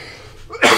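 A single sharp cough breaks out after a short quiet stretch of faint breathing, loud and close to the microphone.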